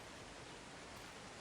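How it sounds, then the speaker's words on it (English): A waterfall about fifty feet high, swollen by overnight rain, pours in a forest, giving a steady dense broadband rush with no pauses or voices. "It must be a good 50 feet from the top of that waterfall down."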